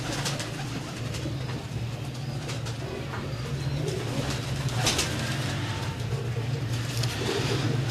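Breeder pigeons coo steadily in low, soft repeated calls through the whole stretch, with a few other birds chirping faintly in the background.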